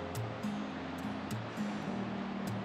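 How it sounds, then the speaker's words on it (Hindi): A river flows near a hostel at Sonamarg on the way to Zoji La pass, a steady broadband rush of water with a low engine-like drone humming underneath, continuous and fairly loud. "सीरियस यहाँ पे नदी बह रही है."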